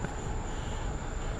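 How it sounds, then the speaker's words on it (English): Crickets chirp in a steady, unbroken high drone on a dark, quiet night outdoors in Hokkaido. The sound is faint and continuous over low background rumble. "Listen to the crickets chirping."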